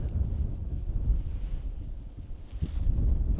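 Cool wind blowing across a hilltop campsite on Lowther Hill, a low, uneven rumbling buffet against the microphone with soft gusts and faint rustling throughout the short stretch.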